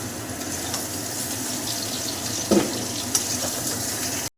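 Ridge gourd and potatoes go into a pan of already-fried chilli, onion and cumin, giving a steady close hiss and sizzle with a couple of brief clatters before it cuts off.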